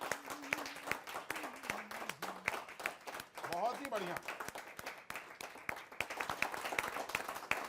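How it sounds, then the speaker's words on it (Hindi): Audience applause welcomes a poet at a Holi kavi sammelan, scattered claps crackling steadily under someone speaking, with music also present. "आइए जोरदार तालियों से स्वागत करते हैं"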